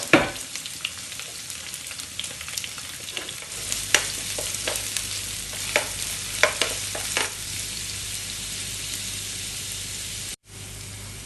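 Garlic, ginger and green chillies sizzling in hot oil in a pan, with a steady close crackle and scattered sharp pops and stirring scrapes, ending in a brief break near the close.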